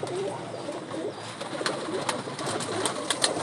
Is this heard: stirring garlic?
no